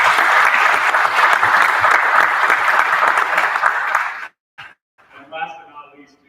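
An audience at a high school athletic recognition night claps loudly and steadily for several seconds, then the applause cuts off abruptly and a voice begins talking over a quiet room.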